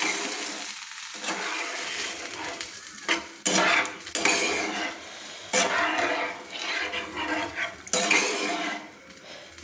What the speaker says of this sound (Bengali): জল অ্যাড করে আমি খুন্তি দিয়ে নেড়ে নিচ্ছি